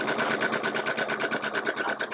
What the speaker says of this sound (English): Pick up the right, lay it over on top of the left, and sew that with a 1/4 inch seam allowance